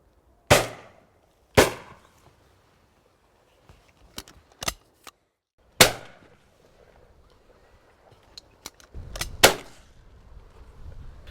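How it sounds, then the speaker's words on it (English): Shotgun blasts from decoyed pigeon shooting ring out as loud, sharp single reports in fairly quick succession, with quieter clicks and handling noises between them. "Now this is more like it, fast-paced shooting"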